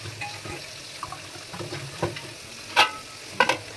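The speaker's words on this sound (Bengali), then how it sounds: "মাছ ভাজা করছি" Fish fries in a pan during home cooking, a low sizzle with a few stirring scrapes and sharp utensil knocks near the end, close and fairly quiet.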